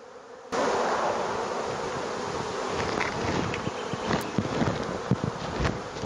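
Bees swarm loudly in an opened, crowded beehive, a dense continuous buzzing that starts abruptly and holds steady, with occasional close knocks and handling sounds.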